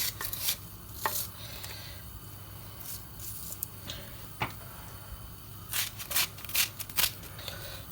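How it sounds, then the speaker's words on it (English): A knife chops onions on a cutting board for lamb karela with bitter gourd, with scattered, irregular taps that cluster into quick bursts of strikes toward the end, over a quiet background. "I'm going to cut my onions and put everything into this"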